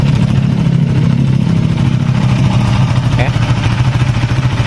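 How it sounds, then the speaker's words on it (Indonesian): A Honda Sonic 150 motorcycle engine idles steadily close by, its leaky exhaust with three holes giving a rough, uneven putter that runs throughout under speech. "Makanya suara mesinnya seperti ada yang moros gitu, suara padahal dari knalpot nih."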